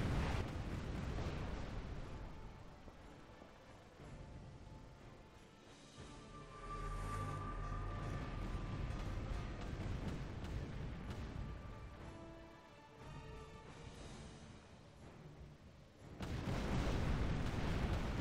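Booming broadside cannon fire from a pirate ship in the pirate action RPG Tempest, a dense, continuous roll of blasts and rumbling impacts with surging loudness throughout, ending in a louder burst.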